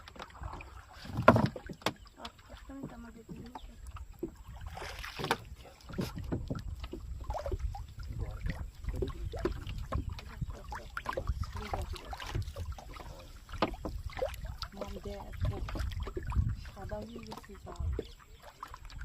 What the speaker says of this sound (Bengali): নৌকা ঘুরে যাচ্ছে